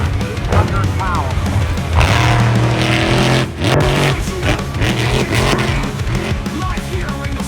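Monster truck engine roaring at a monster truck and freestyle motocross show, loud and continuous with revving surges and throttle swells, heard beneath an announcer talking over the arena.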